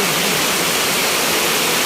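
Loud, steady rushing floodwater after heavy rain roars without pause, a dense broadband torrent with no voices.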